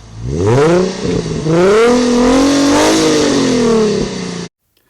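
A cheap car's engine revs loudly and close by, its pitch climbing, dipping and climbing again across several throttle blips, with no voices, before cutting off abruptly.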